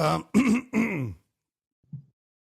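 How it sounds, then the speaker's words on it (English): Someone clears their throat in three quick, rough bursts close up, followed by silence and a short low grunt. "Clear your throat."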